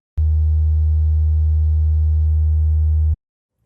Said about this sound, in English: Here's the sine wave.